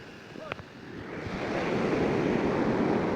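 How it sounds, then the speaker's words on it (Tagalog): High ocean waves at Pagudpud beach rush in as a broad, swelling roar of surf that grows louder and fills the clip, with wind noise and a brief voice near the start. "Taas ng alon dito"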